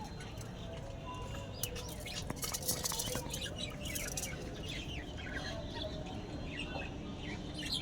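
Budgerigars chirp in a budgie farm, a dense, continuous chatter of many small bird calls close by, with a voice speaking over them.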